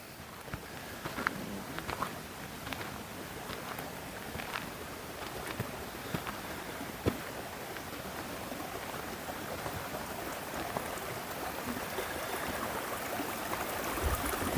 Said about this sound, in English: Then we have the little Bull Creek here.